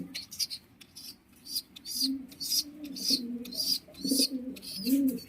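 Pigeons coo in soft, low repeated calls, mixed with sharp high chirps that come in a rhythmic series, close by.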